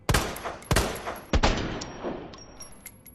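Three sharp, loud shots from the Matilda handgun fitted with a muzzle brake in the Resident Evil 2 Remake video game, spaced apart with ringing decay and faint game sounds between.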